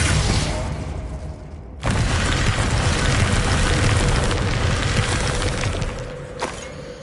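Spell blasts in Hogwarts Legacy: a loud booming explosion with crackling debris, then a sustained rumbling burst that dies away, followed by a sharper impact near the end.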